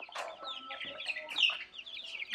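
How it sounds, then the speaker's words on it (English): Several chickens cluck and squawk close by in a busy, overlapping chatter of short, sharp calls, with no one speaking. "Hi, chickens."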